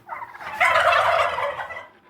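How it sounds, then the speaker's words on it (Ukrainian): A turkey lets out a loud, warbling gobble close by, one rapid burst that rises and then fades away. "дивлюся, індики підросли"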